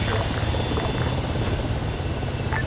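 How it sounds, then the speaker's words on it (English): A military helicopter in the video game Arma 3 drones steadily with a low rotor thrum, heard at moderate level throughout with no clear talking. "Bravo and Echo mount a helicopter"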